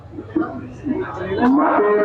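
An Australian Friesian cow at a busy cattle market in Sylhet gives several drawn-out, wavering moos at close range, rising toward the end, with faint crowd voices underneath.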